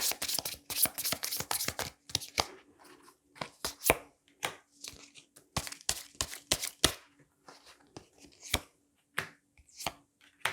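Tarot cards are shuffled in crisp, rapid bursts of riffling slaps and flicks with short pauses between, close and clear with no talking.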